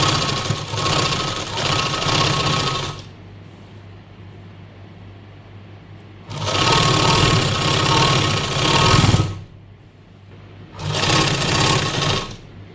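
A sewing machine stitches piping onto a fabric hem in three loud, close bursts of rapid whirring, each a few seconds long, separated by quiet pauses.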